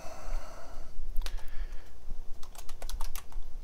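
Fingers type on a computer keyboard, producing scattered, uneven clicks and taps, a few in quick clusters, heard up close and alone with no one speaking.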